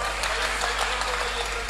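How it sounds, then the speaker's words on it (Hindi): Audience at a Hindi comic poetry gathering (kavi sammelan) clapping briefly, a dense, even patter of applause lasting under two seconds. "ताली बजा दो सर"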